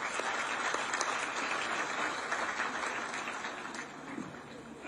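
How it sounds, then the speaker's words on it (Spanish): An audience applauds at a business association meeting in Mexico, a sustained wash of clapping from a crowded room that holds steady for several seconds before fading slightly. "además un aplauso porque hoy es su cumpleaños."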